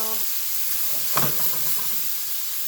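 Salted food cooks in a hot pan, giving a continuous close hiss and sizzle with a brief louder crackle partway through and no speech.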